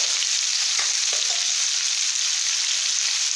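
Chicken liver fries in a pan with a loud, continuous sizzle and a few sharp spattering pops early on, close up with no talk.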